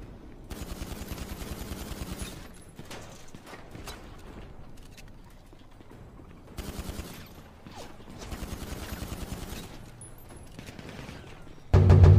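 Bursts of rapid gunfire in a shootout, machine-gun-like rattles coming in several loud volleys separated by quieter stretches, with a sharp loud burst at the very end.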